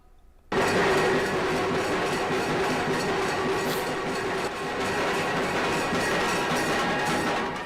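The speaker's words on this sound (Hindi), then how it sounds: "प्रधानमंत्री ने गुंदावली से मोगरा स्टेशन तक मेट्रो का सफर भी किया।" A Mumbai Metro train in motion between Gundavali and Mogra stations, heard from inside: a sudden onset into a constant loud rumble and whine of wheels and motors, steady throughout with a faint high squeal.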